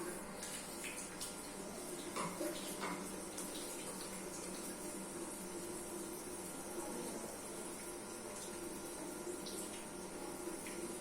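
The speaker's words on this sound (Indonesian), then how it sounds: "Kita cuci tangan 6 langkah." Hands being washed under a running tap, a steady close rush of water with faint splashing that continues without a break and with no voices.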